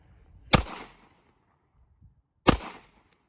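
Two loud, sharp shots from a Hi-Point JCP .40 S&W pistol, fired about two seconds apart in a torture test, each crack decaying quickly, with quiet handling noise between them.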